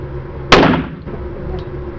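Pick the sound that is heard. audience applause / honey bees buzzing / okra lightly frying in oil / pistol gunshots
pistol gunshots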